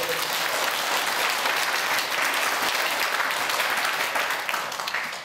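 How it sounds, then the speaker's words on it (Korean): A church congregation applauds the choir, dense sustained clapping from many hands filling the room, steady throughout and thinning slightly at the very end. "자, 우리 박수 한번 시작하고"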